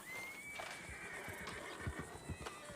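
A horse whinnies after being called, a sustained high neigh stretching across the moment over a steady rumbling background with soft thuds.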